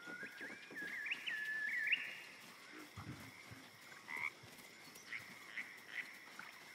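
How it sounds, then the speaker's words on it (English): A frog in the video game Baldur's Gate 3 croaks in erratic, pained bursts, a cluster of rough ribbits followed by scattered short chirping calls over a quiet ambient game background. "It ribbits erratically as if in pain."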